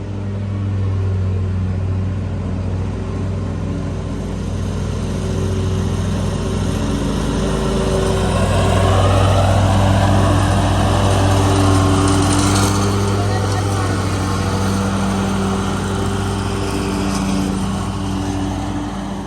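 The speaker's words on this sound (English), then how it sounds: "So this is the hill Rachel's mowing now." A Ferris riding lawn mower cutting grass on a backyard hill on a cold day, its engine droning steadily nearby and swelling slightly midway.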